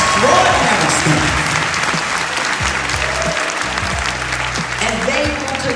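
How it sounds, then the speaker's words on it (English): A large crowd at a political inauguration ceremony breaks into a loud, sustained round of applause, dense and continuous, with voices and cheers mixed underneath. "Would y'all give his staff a round of applause?"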